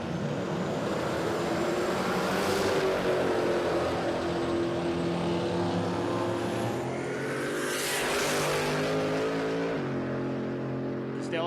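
A big block drag race car at Palmyra Raceway roars loudly with a strong, steady engine note. The pitch climbs and shifts as it accelerates down the strip, then the sound changes abruptly near the end of the run.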